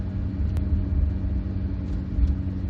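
A 1978 Princess 2 2200 HLS with its 2.2-litre E-series six-cylinder engine rumbles steadily at a low, even pitch throughout, with no voices over it.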